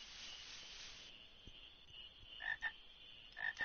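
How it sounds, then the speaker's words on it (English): Frogs croak in Final Fantasy 9, a few short bursts of two or three calls each near the end, over a steady background hum of game ambience. "I smell frogs."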